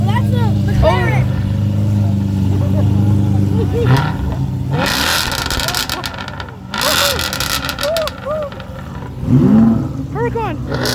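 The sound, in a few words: McLaren engine revving at a car show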